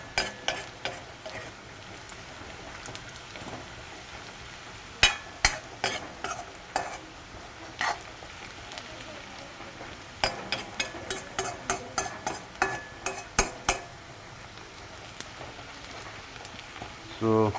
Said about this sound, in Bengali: তো আদা, নহৰু, জলকীয়া আৰু পিঁয়াজ মই ফ্ৰাই কৰি আছোঁ।